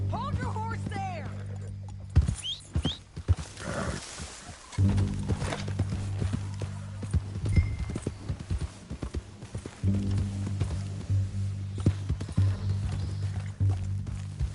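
Horse hooves clip-clop steadily at a trotting rhythm in Red Dead Redemption 2, with voices shouting over them at times.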